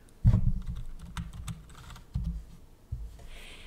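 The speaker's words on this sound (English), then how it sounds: "then you'll just type in Infusible Ink" Fingers tap a computer keyboard at close range while entering a materials search in Cricut software, with a burst of keystrokes followed by a few separate pauses and clustered presses.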